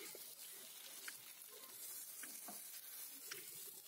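Carrot patisapta pitha rolls are pressed down and fried on both sides in a pan, producing a faint, steady sizzle with a few soft scraping ticks and no talking.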